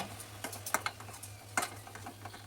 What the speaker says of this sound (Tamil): ஒரு ஃபைவ் மினிட்ஸ் ஆயிலே நல்லா வதங்கட்டும்